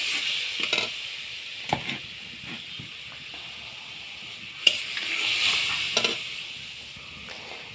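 Egg curry masala with salt and turmeric sizzles steadily in the pan as coconut milk goes in, a soft continuous hiss broken by occasional clinks and scrapes of stirring.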